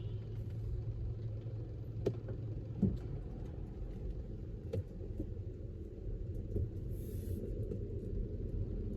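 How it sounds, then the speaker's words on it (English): Low, steady rumble of a traffic jam on a road in Santa Cruz after rain, car engines idling and rolling nearby with occasional faint knocks, no talking. "Yeah, so it's just a traffic jam right now."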